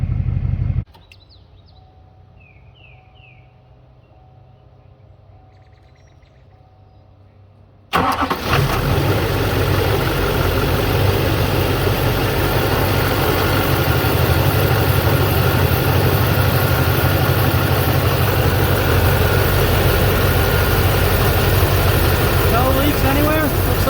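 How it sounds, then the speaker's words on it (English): A car that was just checked for leaks cranks briefly and starts after a quiet stretch. It then settles into a loud, steady idle as it warms up. "I'll give her a minute warm up, and then we'll take her out for a test drive"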